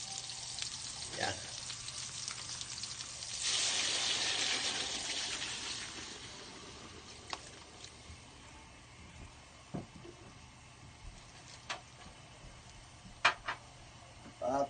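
Water pours into a hot pan of pancit canton with soy sauce, producing a loud rush of hissing and sizzling for a few seconds that settles into a steady simmer with occasional pops.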